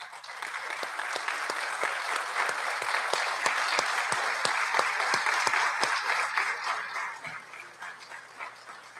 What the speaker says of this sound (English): Please offer them a round of applause.